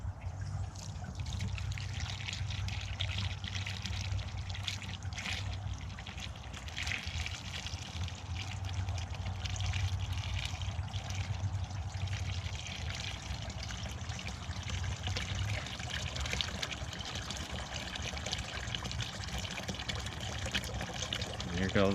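Melted beeswax sludge from old brood comb is poured through an old t-shirt filter, giving a steady, faint liquid trickle and dribble that runs throughout with no break.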